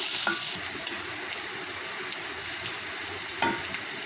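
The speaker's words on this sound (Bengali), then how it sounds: "পেঁয়াজ কুচি, হালকা ভেজে নেব বাদামি কালার করে" Chopped garlic and onion frying in a pan for cheese pasta, a steady soft sizzle with a couple of brief louder scrapes of stirring, no talk.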